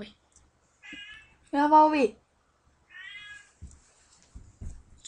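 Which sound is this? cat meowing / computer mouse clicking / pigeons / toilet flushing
cat meowing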